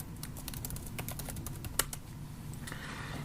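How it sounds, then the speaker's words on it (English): Keys clacking on a computer keyboard in a steady run of quick, light taps with one sharper keystroke partway through, close up over a soft room hum. "So I'll just type that in here."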